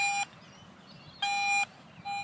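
Metal detector giving sharp electronic beeps, three tones in a row: one short, a pause, a longer one, then another starting, clear against a quiet background.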